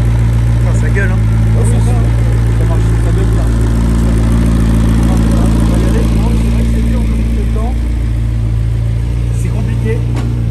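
A McLaren supercar engine roars loudly and steadily up close for the whole stretch, a deep droning growl with voices faintly beneath it.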